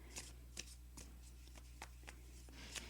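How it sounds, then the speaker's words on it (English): Tarot deck being shuffled close up, a steady series of soft, sharp card slaps and riffles at irregular intervals over a low constant hum, quiet and without talk. "this card looks like it wants to come out first because I was shuffling this deck"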